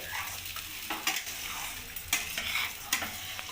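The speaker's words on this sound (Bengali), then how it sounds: "এবার আমি চালটাকে ভালোভাবে ভেজে নেব," Rice with green peas being stirred and fried in a wok for Basanti pulao, a steady sizzle broken by sharp scrapes of the spatula against the metal, close and alone.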